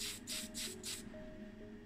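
TS13 spray lacquer hisses from a can in four short, evenly spaced bursts over the body of a Matchbox 1978 Ford Escort RS2000 model car, close and fairly quiet, followed by a quieter stretch.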